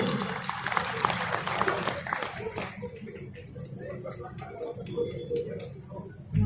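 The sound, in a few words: audience applause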